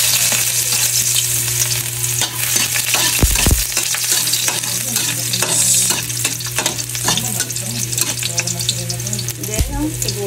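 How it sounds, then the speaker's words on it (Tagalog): Chopped garlic frying in hot oil in a pan, a loud, continuous close sizzle with occasional scraping stirs and a couple of soft knocks, no voices. "lagayin muna tayo ng oil. Ilagay na natin itong bawang."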